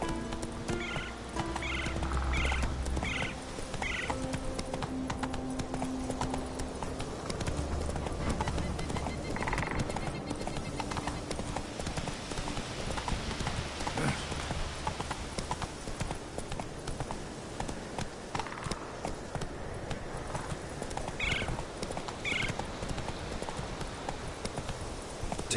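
Horse hooves clip-clop at a steady trot in The Witcher 3: Wild Hunt, a continuous close rhythm running through the whole stretch, with occasional bird-like gobbling calls and ambient game sounds layered underneath.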